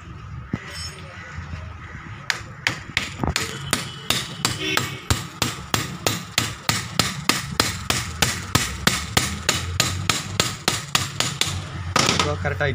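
A hammer strikes a part on a Tata gearbox in a steady run of sharp metallic blows, roughly two per second, close and loud, with someone speaking now and then.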